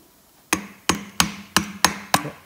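Six sharp metallic small-hammer taps on a screwdriver under a John Deere transaxle drain hole plug, at a steady, even pace, each a crisp knock with a short ringing decay, close by and with no talking.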